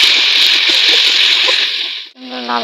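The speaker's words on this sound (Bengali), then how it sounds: "চলো আস্তে আস্তে চিকেনটা ভালো করে কষিয়ে নিই, ভাজা ভাজা হয়ে যাক" Chicken fries in a pan with ginger-garlic paste and green chili paste, giving a loud, steady sizzle that drops away near the end, followed by a short tonal sound.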